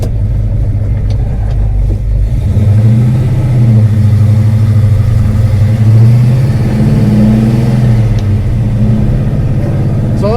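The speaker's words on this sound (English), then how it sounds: "Go for a drive and get some miles on it." A car engine hums steadily while driving, a loud, close, mid-pitched drone that rises and falls gently with throttle over several seconds.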